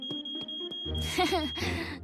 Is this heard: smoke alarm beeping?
yes